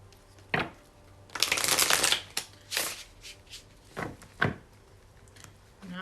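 Tarot cards are shuffled by hand in a series of quick riffling bursts and soft taps, one longer flurry followed by several shorter ones, close and without talk.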